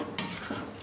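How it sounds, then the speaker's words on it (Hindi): A spoon stirring cream into a pot of Mughlai chicken handi, a short scrape against the vessel with a soft sizzle underneath, close and fairly loud. "अब हम क्रीम को मिक्स कर लेंगे अच्छी तरह से।"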